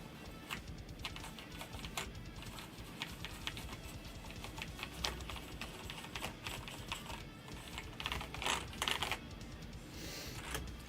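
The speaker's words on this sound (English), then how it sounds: "I love that sound compared to a normal keyboard" Rapid, steady clacking of keys on a computer keyboard, with sharper bursts near the end, set against continuous background music and no speech.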